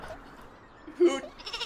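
A single short cartoonish sheep bleat rises briefly amid quiet game background in Worms W.M.D, followed by faint chatter.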